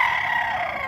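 A rooster crows in one sustained, loud, close call that fills the short moment on its own, with no talking over it.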